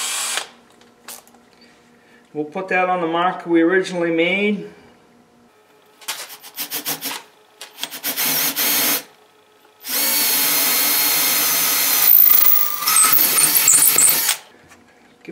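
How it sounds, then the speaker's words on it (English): A power drill boring a 5/16 inch hole for a suspended bait trap runs in a few bursts of whirring, with a sustained stretch near the end, between a man's speech and clinking tool handling. "First thing we're going to do is drill a 5/16 hole through here."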